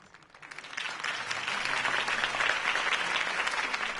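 A crowd in the Batman Telltale Series video game breaks into applause after a campaign speech, rising quickly from scattered claps to a sustained, dense roar of clapping.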